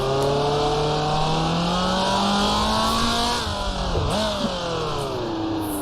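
Formula 2 race car in the Grand Prix Legends game, 1966 Pau Grand Prix: a loud, close engine holding a steady high rev, dipping sharply on a downshift then climbing again.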